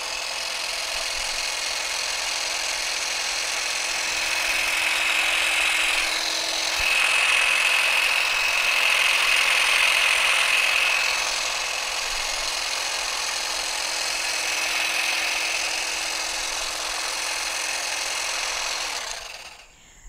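An electric hedge trimmer buzzes steadily close by while cutting shrub branches, its whine swelling louder in the middle as it bites into growth and stopping abruptly at the end.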